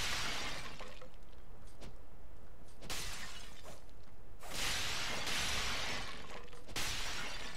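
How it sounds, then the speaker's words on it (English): Clay pots shatter in the samurai action game Sekiro: Shadows Die Twice, several separate bursts of breaking crockery spread a second or two apart, crisp and close against a quiet background. "Smashing up all your pots, mate."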